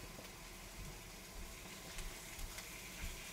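Chicken skin frying in a pan, a steady, dense sizzle throughout with small pops and crackles rising now and then, no voices.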